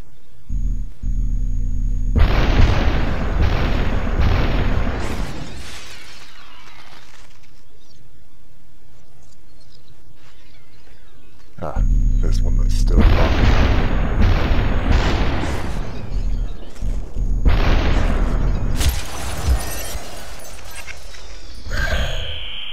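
Shotgun blasts and gunfire in the SUPERHOT shooter game come in two loud clusters of booming, punchy shots with heavy low-end thumps, each cluster lasting several seconds with a short gap between them.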